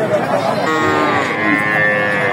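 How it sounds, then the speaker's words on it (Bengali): Cattle low and moo at a busy Bogura cattle market, a steady, loud bellowing with harmonic calls over a dense crowd murmur. "এখানে ছোট বড় মাঝারি সব ধরনের গরু কিনতে পারেন"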